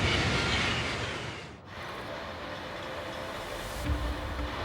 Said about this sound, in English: the Italo AGV high-speed train is nearly a quarter of the way into its 600-kilometer journey from Milan to Rome